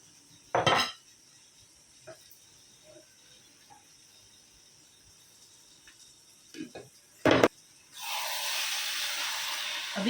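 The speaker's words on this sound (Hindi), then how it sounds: "अभी चावल को अच्छे से भूनेंगे" Basmati rice stirred with chicken in a cooking pot: two short scraping clinks of a spoon against metal, soft intermittent taps, then a steady loud sizzle near the end.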